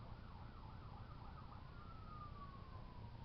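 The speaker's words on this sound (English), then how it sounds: "There's a siren in the background." A distant wailing siren, like an emergency vehicle's, rises and falls through a steady hum of background noise, then settles into a long sliding tone. It carries on alone with no talk, faint but clearly audible.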